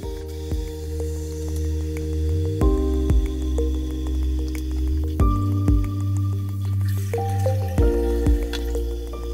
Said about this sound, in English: I pretty much just put the temperature on full on my hot tap, let it fill